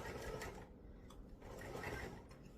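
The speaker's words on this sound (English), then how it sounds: "So I'll go down a little bit and backstitch, and then go down so far." A sewing machine backstitches fabric for a storage cube bag: a short whirring run of stitching, a brief slowdown, then the motor picks up again, close and moderately loud.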